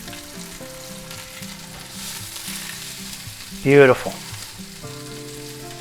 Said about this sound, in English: So we want to sear them up good, and then we'll put them in the oven and finish cooking them.